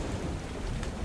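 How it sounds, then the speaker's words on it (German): A steady wash of heavy rain with a low thunderous rumble fills a thunderstorm in the video game ARK: Survival Evolved, dense and continuous with no talk over it. "So ein Gewitter da schon hier."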